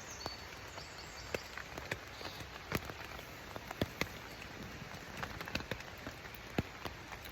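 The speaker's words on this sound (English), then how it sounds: "I hope the tent doesn't leak. It's a proper storm out there." Heavy rain from a storm pours onto a tent in Welsh woodland, a dense steady patter with frequent louder individual drops striking close by, no voices.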